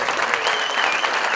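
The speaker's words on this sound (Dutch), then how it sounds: "Applaus." An audience at a volunteer award ceremony claps steadily in dense, continuous applause, with faint voices underneath.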